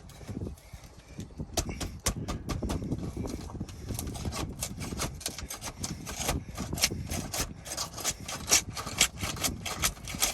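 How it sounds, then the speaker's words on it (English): A flat bar prying up and scraping under a roof tar strip while fitting a rain diverter: repeated rough scraping and rasping strokes up close, with sharp knocks and creaks in an uneven rhythm. "Do that by prying your flat bar up underneath that tar strip, trying to lift it up."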